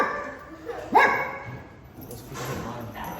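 Dogs playing at a dog cafe, with a sharp yip or bark near the middle and softer whimpers and scuffles around it, under people chatting.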